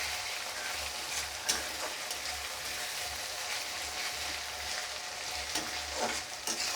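Spice paste with crushed green chillies is stirred and fried in a pan, giving a steady sizzle with scraping stir strokes and a few louder clacks of the spoon, close up and with no talk.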